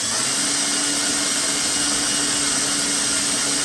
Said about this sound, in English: So I will just drill right through the tape and into the boat.